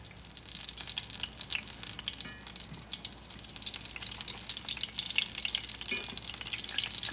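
Apple turnovers deep-frying in hot oil, a steady close sizzle and bubbling crackle that holds evenly throughout with no voices.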